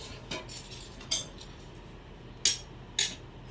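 A spoon clinks against dishes in a home kitchen, a few sharp, bright metallic taps scattered irregularly and heard close and clear, with no talking over them.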